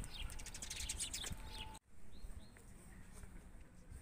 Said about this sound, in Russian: оккупировали воробьи.